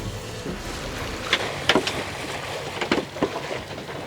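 Steady wind and water rushing against a sailboat's hull as it moves under sail at about 2 knots in a 7-knot wind, with a few creaks and knocks from the rigging.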